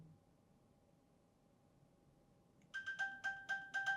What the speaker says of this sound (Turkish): Yakında MacBook'unda şimdi ses çalıyorum.